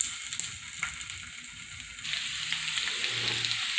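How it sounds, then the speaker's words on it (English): Thin potato slices sizzle in olive oil over a fire, a soft continuous frying hiss with a few faint scrapes, rising slightly partway through; no one speaks. "Now I throw these chips on the fire."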